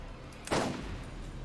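A single sharp gunshot from a weapon in the Borderlands video game cracks out loud and close partway through, then fades into a steady low background hum.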